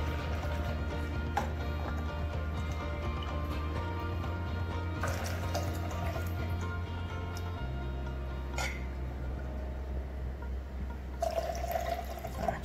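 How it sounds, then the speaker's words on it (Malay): Water scooped from a fish tank with a cup and transferred into a new container, heard as soft sloshing and trickling over a steady low hum, with a few small splashes and drips. "Lepas tu kita akan cedok air yang ada di dalam ni lah."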